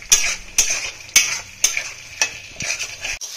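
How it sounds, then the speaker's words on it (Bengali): Soya chunks with spices and yogurt are stir-fried in a pan, the spatula knocking the metal in sharp, evenly spaced strokes about every half second over a soft sizzle. "সয়াবিন কটা এর মধ্যে দিয়ে দেবো। ভালোভাবে কষিয়ে নেবো মশলার সঙ্গে।"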